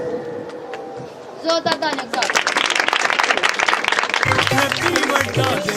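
Lively audience applause for a child at a New Life Ministry birthday gathering, dense clapping swelling after a short lead-in and carrying on steadily and loudly, with voices talking and calling out over it.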